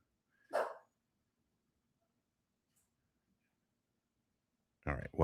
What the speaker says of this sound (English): Stella, thank you for actually being a guard dog for once